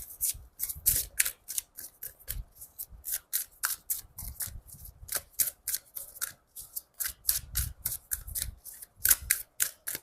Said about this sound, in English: Sometimes I get lost in the shuffling too much.